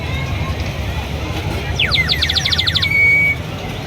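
Clay whistle sold at the Kokan festival, blown to imitate bird calls, a quick run of bright chirping trills followed by a held whistle, heard up close over a low crowd murmur.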